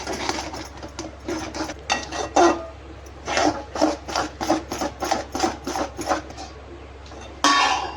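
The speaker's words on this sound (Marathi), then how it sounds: "आता हे कंटिन्यू असं हलवत राहायचं पाणी टाकून" Sesame seeds and peanuts being stirred into a sugar syrup in a pan, giving a series of rhythmic, close scraping and rasping strokes with brief pauses.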